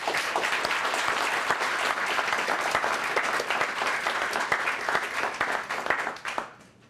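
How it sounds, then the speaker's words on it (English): A reception crowd at a scholarship event applauds the scholarship recipients, sustained clapping at an even level that tapers off near the end. "Please, let's give them another round of applause."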